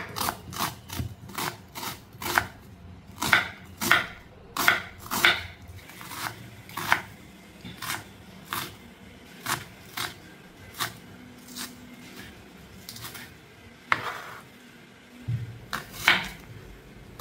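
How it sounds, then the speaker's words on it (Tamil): Onions finely chopped with a knife on a board while cooking paneer bhurji, a steady run of crisp, close, evenly paced chops with brief pauses and no talk. "நம்ம வெங்காயத்தை நல்லா பொடி பொடியாக கட் பண்ணிக்கலாம்."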